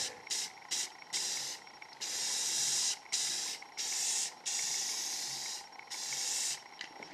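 Short and long bursts of aerosol tint hiss in an uneven rhythm of about nine passes as light coats are sprayed onto W140 Mercedes-Benz S-Class taillamp lenses laid on cardboard, close and fairly loud with quiet gaps between.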